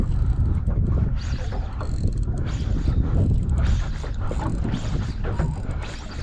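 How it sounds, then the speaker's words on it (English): A fishing reel cranks with rapid ratcheting drag clicks during a fight with a mackerel out on a boat, a steady busy mechanical rattle under water and hull noise. "Crank that drag up just a touch."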